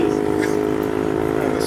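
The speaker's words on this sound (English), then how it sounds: "This is another moped. They got no muffler." A loud, raspy moped engine with no muffler drones steadily nearby, with a harsh buzzing exhaust note and no pauses over the short stretch.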